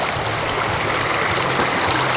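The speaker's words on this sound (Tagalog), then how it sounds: "lumaragasa yung tubig" Water rushes loudly and continuously at Estrella Falls in Narra, Palawan, a dense close roar of the falls and stream with no pauses and no voices.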